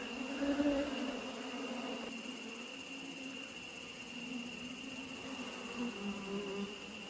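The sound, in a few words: honeybees buzzing around the hive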